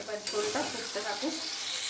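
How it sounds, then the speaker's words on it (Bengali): Fish curry gravy bubbles and simmers in a pan, a close, even sizzling hiss without pause over a couple of seconds, with no voices. "দেখো, ঝোলটা ফুটে উঠেছে।"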